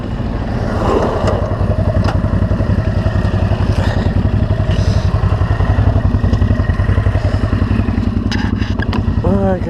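A motorcycle ride on a road near water: a loud, close engine drones steadily throughout, with rattling and clatter on top and brief rising whines near the end.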